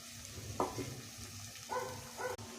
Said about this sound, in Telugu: ఆనియన్ బాగా ఫ్రై అయిన తర్వాత పగలగొట్టిన 2 ఎగ్గులు వేసుకోవాలి.